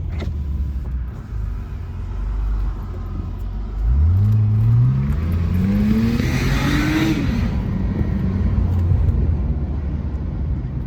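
A car engine with its exhaust resonator deleted idles with a low rumble, then revs up in a rising, throaty sweep and settles back to a steady, loud idle.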